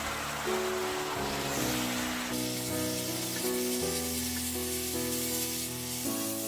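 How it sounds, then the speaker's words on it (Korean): Spinach stir-frying in a seasoning sauce in a hot pan, a steady loud sizzle and hiss running throughout with faint stirring scrapes, no voices. "시금치가 한숨 죽을 때까지 볶아주세요"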